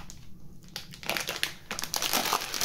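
An antistatic bag wrapped around the laser module of a Longer B1 20W laser engraver crinkles and crackles close up, a short burst of dense plastic rustling with no talking.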